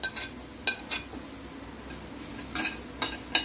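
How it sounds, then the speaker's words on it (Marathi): Onions frying in a little oil in a home kitchen pan, a faint steady sizzle broken by a few sharp clinks of a spoon or spatula against the pan. "थोडंसं तेल टाकून कांदे भाजते"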